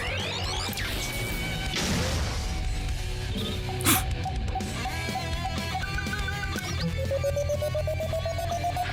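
Charge shot blast in a Death Battle animation of Metal Sonic versus Zero, a sharp crash and burst amid layered whooshes, rising energy tones and metal music.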